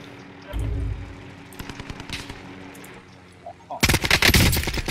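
AN-94 assault rifle fire in Call of Duty Warzone: loud, close bursts of rapid automatic shots. A short burst comes first, then scattered single cracks, then a dense sustained volley near the end. There is no talking over the gunfire.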